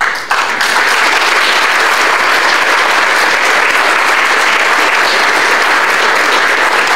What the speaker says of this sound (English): applaud our CRAs